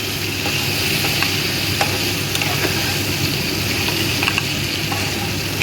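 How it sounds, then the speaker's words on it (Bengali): Vegetables for sukto, salted and with turmeric, fry under a lid in a pan, giving a loud, continuous sizzle with scattered crackles and soft stirring clicks throughout. "এগুলো ভাজা ভাজা করব"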